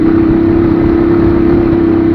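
A motorcycle engine, three years old and losing pulling power, runs at a steady, loud, sustained drone with a constant hum and no pauses or change in pitch.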